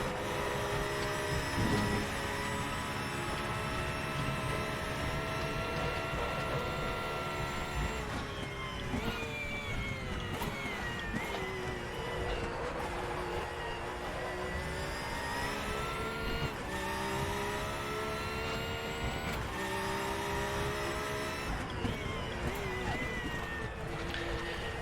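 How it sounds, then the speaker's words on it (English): A high-revving GT3 race car engine in the RaceRoom racing game screams loudly and continuously, its pitch sweeping up and down through gear changes and corners. "I hate the sound of this high revving engine"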